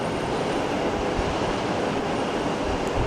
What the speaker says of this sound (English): light takeoff, rotate, beautiful, beautiful clean takeoff.